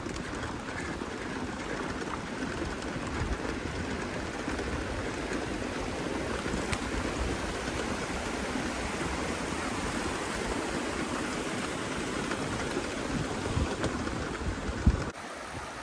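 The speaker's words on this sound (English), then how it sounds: "This is a fun little spot. This is Swale Creek." Swale Creek runs through a canyon beside a rail trail, giving a steady, unbroken rushing and gurgling of flowing water, close and moderately loud, with no voices.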